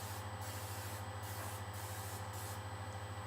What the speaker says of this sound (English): Spray a little bit of super clean spray.